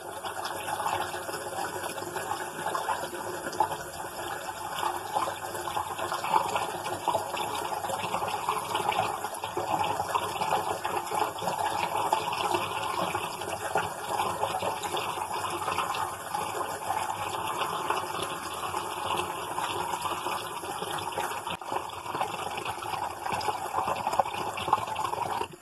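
Running water splashes continuously as a face is wetted, a steady close trickle-and-gush wash lasting the whole stretch with no talk.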